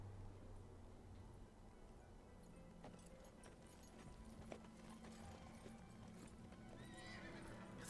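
A horse whinnies loudly near the start, then hooves clip-clop in a steady rhythm under a dense backdrop of ambient noise and faint clatter.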